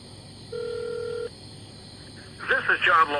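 A phone's touch-tone keypad sounds one steady, clear dual-tone beep held for under a second over a faint background hum, followed shortly by a voice starting to speak.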